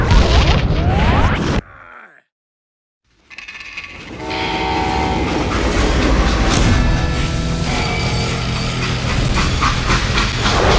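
A train in the video game Call of Juarez Gunslinger rumbles with a steam whistle, a brief drop to near silence, then a heavy continuous clatter and hiss of rolling cars that grows and holds.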